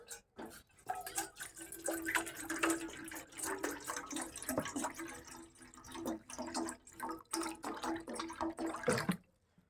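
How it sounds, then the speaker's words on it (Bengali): Water running and splashing into a vessel while tea is being made with milk, sugar and tea leaves at home, a steady pour with small clinks, close and fairly quiet, no talking. "জলটা দিয়ে দিলাম।"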